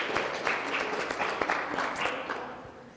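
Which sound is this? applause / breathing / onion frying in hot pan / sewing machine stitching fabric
applause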